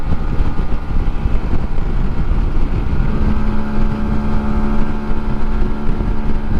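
Custom motorcycle riding along a road, its steady engine drone and a droning hum mixed with heavy wind rush on the microphone, loud and continuous with no talking.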